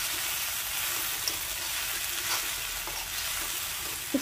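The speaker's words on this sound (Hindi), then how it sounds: "हटाकर हम 5 मिनट के लिए और भूनेंगे सब्जी को।" Beans and potato pieces fry in a pan as they are stirred, giving a steady, even sizzle with soft scraping throughout and no talking.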